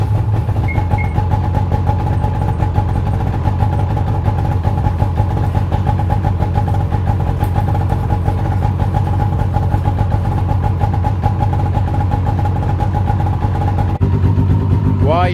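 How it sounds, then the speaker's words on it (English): Snowmobile engine idling steadily to circulate treated gasoline through the carburetors before storage, a loud, close, constant droning hum that shifts briefly near the end, with someone talking over it. "Now I'm gonna run the engine."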